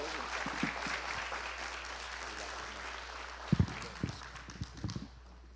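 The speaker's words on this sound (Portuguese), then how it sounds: "Uma salva de palmas para o Camargo" Audience applause for Camargo at a church gathering, a dense spread of clapping that runs several seconds from a moderate distance, with a few louder close claps and stray knocks near the end before it fades out.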